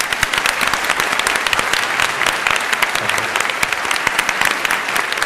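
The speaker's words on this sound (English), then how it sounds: "I'd like to invite a round of applause" A debate audience gives a sustained round of applause, many hands clapping densely and evenly for over five seconds without letting up.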